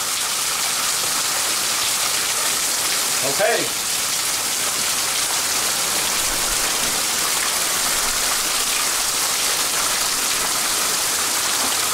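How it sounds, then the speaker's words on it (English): Heavy rain drums steadily on a hurricane-force umbrella amid wind gusts, a dense continuous hiss throughout, with a brief spoken word near the start. "Lots of rain and some good wind gusts."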